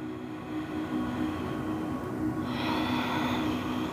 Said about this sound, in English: Three more breaths.